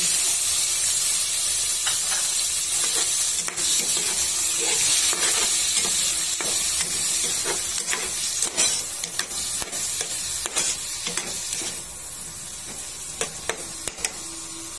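Peeled shrimp go into a hot pan with corn and ground meat, setting off a loud, steady hiss and sizzle close up, with scattered clicks and scrapes of stirring toward the end.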